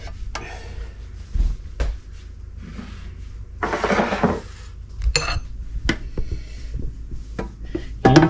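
Breaded boneless chicken wings being loaded into a hot air fryer, heard as clinks of metal and cookware, a longer scraping rustle midway, then more knocks and clatters, close and intermittent with no talk.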